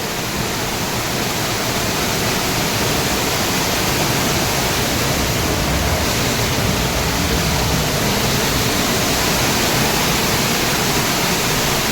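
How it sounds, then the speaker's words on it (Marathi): A large volume of water rushes through a stream, a loud, continuous broadband roar that holds steady with no pauses and no voices. "खूप पाणी चालू आहे."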